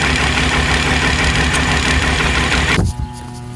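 A tractor engine runs hard while driving a forage chopper through heavy grass, a dense steady roar close by that drops abruptly toward a lower idle near the end.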